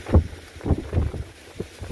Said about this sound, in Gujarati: પવન તો જો બાકી હબહબાટી બોલાવે જોરદાર